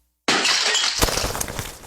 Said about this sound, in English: All is quiet, until a weary skinhead throws the brick he is holding.